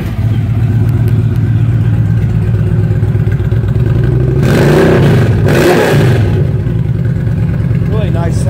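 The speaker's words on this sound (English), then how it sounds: "Really nice sounding bike." A 2011 Yamaha 1300 Stryker motorcycle engine runs loud and steady at close range, swelling in two short revs midway before settling back to idle, with someone talking over it.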